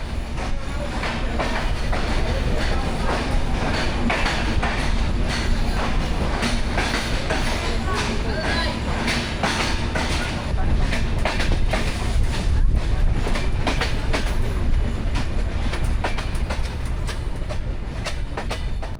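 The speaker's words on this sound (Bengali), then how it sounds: "তাই তো যাত্রাবিরতি না দিয়েই ছুটতে শুরু করলো আমাদের ট্রেন" A passenger train runs steadily along the rails past a large railway junction on the line toward Rajshahi, its continuous rumble and clattering wheels close and loud, with no voices heard.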